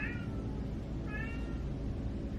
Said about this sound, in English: My cat is meowing at me.